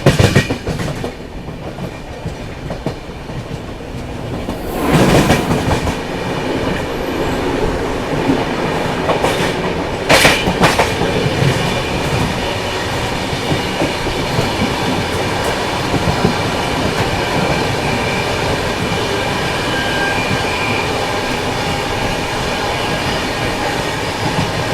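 A Shatabdi Express passenger train running on rails out of Rewari as it overtakes another train, a loud continuous rumble with rhythmic wheel clatter, a heavy rushing burst around five seconds and a brief sharp screech near ten seconds.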